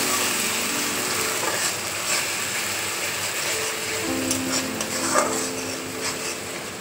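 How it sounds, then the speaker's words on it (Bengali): Spice paste stirred and fried in a pan makes a steady, close sizzling hiss with faint scraping movements and a brief clink near the end, and no one talks. "মশলাটাকে ভালো করে নাড়াচাড়া করে মশলাটাকে একদম ভালো মতো ভাজবো।"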